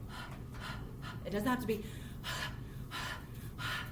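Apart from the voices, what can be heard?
huff breathing demonstrated for chest physical therapy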